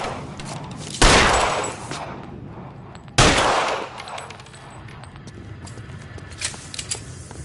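Gunfire in the video game L.A. Noire: two loud, sharp shots ring out a couple of seconds apart, each with a decaying echo, followed by scattered faint crackles and clatter.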